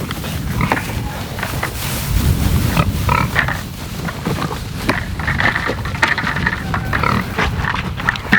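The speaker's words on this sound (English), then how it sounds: "So I'm feeding all the pigs charcoal." Pigs on a homestead being fed charcoal: steady close grunting, snorting and munching from several animals over about eight seconds, with no talk.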